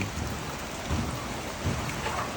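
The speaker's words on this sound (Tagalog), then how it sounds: "Ay, maulan." Rain falls steadily at an outdoor tilapia fish pond, a dense, even hiss of drops with a few soft low thumps, close and continuous without any voices.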